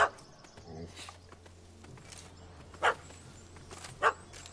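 A puppy in The Witcher 3: Wild Hunt on PS5 gives two sharp, fairly loud barks about a second apart over quiet game ambience, with a faint bark-like yip at the start.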